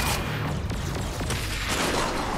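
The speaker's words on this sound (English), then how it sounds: "the explosion took care of him for me" A video game explosion in Agents of Mayhem, a loud, dense burst of booming noise mixed with other action sounds over a couple of seconds, no talk.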